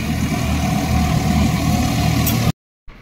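A tractor-driven thresher processes sesame, its engine humming in a steady, loud, even drone for a few seconds before the sound abruptly cuts out.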